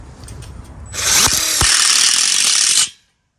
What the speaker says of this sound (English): I use their steel couplings to connect the steel tubes and secure it with self-tapping screws.